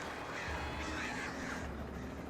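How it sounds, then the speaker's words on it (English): Crows caw outdoors, a few harsh calls rising over a steady wind-like background hum, moderately distant and alone without talk. "Birds."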